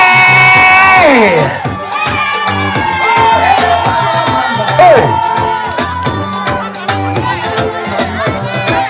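At a birthday party, a crowd cheers and ululates for the parents over loud rhythmic music, with trilling calls and shouts rising and falling across the whole stretch.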